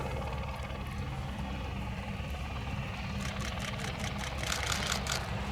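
A de Havilland DH60 Cirrus Moth biplane at the Shuttleworth 'Fly Navy' airshow, its engine a faint, distant drone with soft pulsing toward the end.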